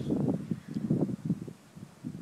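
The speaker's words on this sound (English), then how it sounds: "It's super windy, so I'm just gonna stop talking when the wind comes up and let it blow." Strong wind gusts blow across an outdoor microphone, rumbling in loud buffeting bursts that swell and drop, briefly easing before picking up again.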